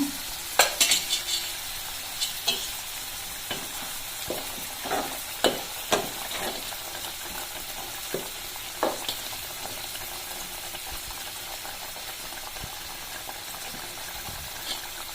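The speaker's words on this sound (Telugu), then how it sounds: "ఈ విధంగా ఉడుకుతున్నప్పుడు కూరని సిమ్లో పెట్టుకొని మూత వేసుకోవాలి" Bottle gourd curry bubbles and sizzles steadily in a pan on low heat, with a soft continuous hiss and occasional clinks and stirring scrapes, heavier early on and calmer later.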